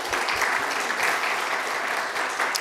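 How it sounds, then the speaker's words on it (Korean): A church congregation gives a pastor a round of applause, with dense, steady clapping from many hands filling the room throughout. "목사님 박수 한번 해드리면 좋겠습니다"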